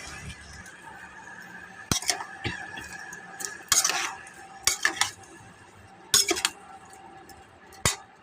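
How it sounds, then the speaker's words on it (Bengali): Flour and cornflour batter for chili gobi being mixed with water in a bowl: a spoon stirs quietly, broken by several sharp clinks against the bowl at scattered moments. "ওইতে একটু জল দিয়ে মিশিয়ে দিয়ে এতে দেবো"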